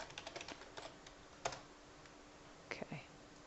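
A new folder name is typed on a computer keyboard, a quick burst of light key clicks followed by a few isolated taps, close and quiet with no talking.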